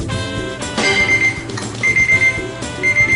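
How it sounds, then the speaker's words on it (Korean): A repeating electronic alarm beeps in steady bursts over a continuous musical or tonal background, loud and close with no talking. "이 알람 소리의 정체는? 무슨 알람 소리예요?"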